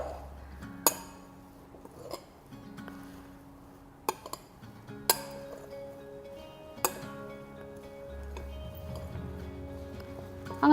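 A spoon stirs a mixture in a container, giving a few sharp clinks and taps spread out over the stretch, with quiet scraping between them and no talk.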